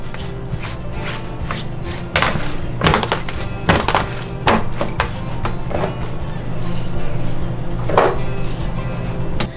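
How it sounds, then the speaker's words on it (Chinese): Salt being ground by hand for curing pork, heard as a series of close, irregular knocks and thumps with scraping between them over a constant low hum. "那我们现在要来磨盐巴"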